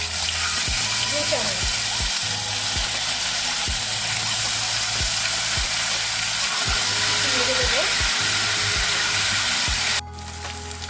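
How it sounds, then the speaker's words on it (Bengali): Ground cumin paste hits hot oil in which whole spices have already been tempered, giving a loud, continuous sizzle with repeated scrapes of a spoon against the pan, close by. "ফোড়নটা ভাজা হয়ে গেছে এবার দিয়ে দেবো জিরে বাটা"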